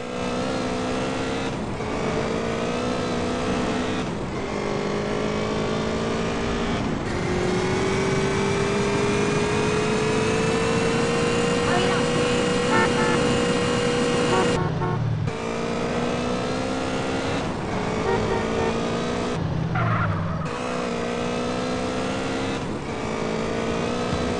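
Car driving in GTA San Andreas, a continuous loud engine drone with repeated gear shifts and revs rising and falling, briefly dipping around the shifts, with no voices.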